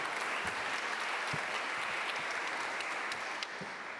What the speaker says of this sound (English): Please give a round of applause as she comes up